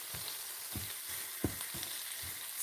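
Peppers and onion sauté in a pan on a tabletop, a soft steady sizzle broken by regular scraping stirs about every half second, close and fairly quiet, with no voices.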